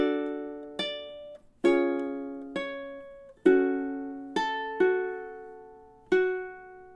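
Measures 5 and 6 of a song on ukulele, a steady series of about eight plucked chords and strums that ring out and fade between attacks, clear and close with no other sound.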